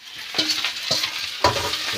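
Chopped tomatoes sizzle in hot oil in a home kitchen as a spoon stirs them for panipuri chutney, giving a few sharp scraping strokes over a steady close frying hiss.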